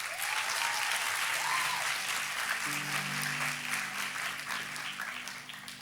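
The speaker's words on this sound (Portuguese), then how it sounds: "Uma salva de palmas para Jesus." A church congregation gives sustained applause, a dense wash of clapping that holds steady for several seconds while a low musical tone comes in underneath.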